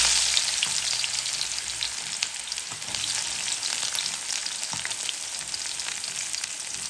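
Onion frying in oil for a bitter gourd fry, a close, bright, crackling sizzle with scattered pops and stirring sounds running continuously, no talking.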